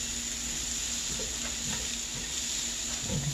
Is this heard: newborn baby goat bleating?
no